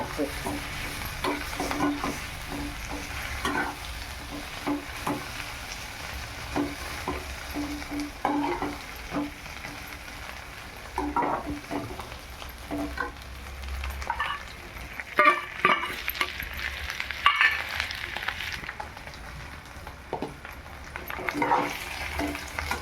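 Diced potato stirred and frying in a pan for sabudana khichdi, a steady close sizzle with repeated scraping stir strokes and light clinks throughout, no talk.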